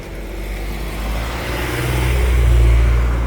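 A car drives along the road leading out of Ambleside, its engine swelling from a distant hum to a loud close rumble as it nears and passes.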